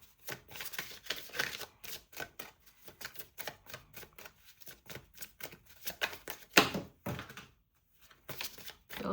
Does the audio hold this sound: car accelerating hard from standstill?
no